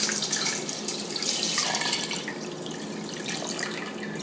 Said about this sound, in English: So let's pour it in.